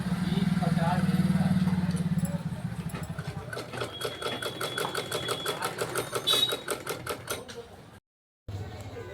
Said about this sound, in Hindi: इसके हम चारों तरफ इस तरह से फोल्ड करके कपड़ा इसके ऊपर सिलाई लगाएंगे।